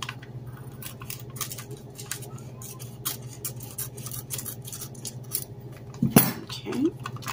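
Scissors snip away excess unglued material from a handmade frame: quiet repeated cutting clicks over a low hum, ending in a sharper clink near the end.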